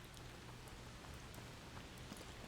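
Rain in the video game A Plague Tale: Requiem, a soft, steady hiss of falling rain with faint scattered drop patters, low in level and with no voices.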